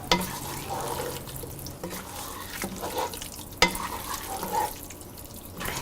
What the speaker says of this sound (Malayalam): എന്നിട്ട് നല്ലപോലെ മിക്സ് ചെയ്യുക.